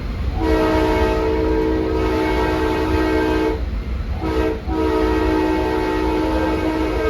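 A westbound LIRR train passes close by with a loud, sustained rumble and a long horn-like tonal blare. The blare breaks off briefly twice before resuming.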